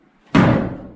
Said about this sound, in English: suddenly, the door slammed shut.